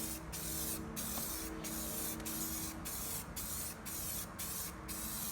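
Wooden shutter louvers being spray painted: loud, close hissing bursts from the sprayer come in a regular series of short passes over a constant background hum, with no speech.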